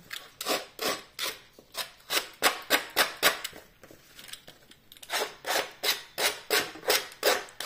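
A paper card is scraped for a vintage look in rapid rhythmic strokes, about two dozen close, crisp rasping passes with a short pause midway, heard without talk.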